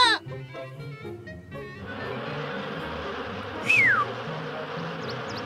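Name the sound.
bees buzzing in cartoon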